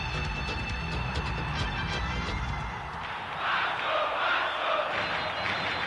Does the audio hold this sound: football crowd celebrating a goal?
yes